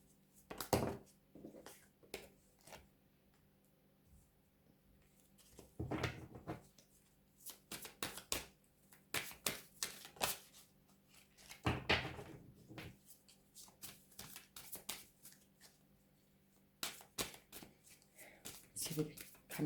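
A double deck of clarity cards being shuffled in hand: repeated quick riffling and slapping bursts in irregular clusters, close and fairly quiet, with soft pauses between them.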